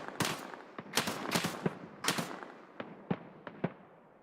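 Bursts of automatic gunfire from a mounted machine gun in Escape from Tarkov, several short volleys and single cracks spread over a few seconds, sharp and somewhat distant with echoing tails.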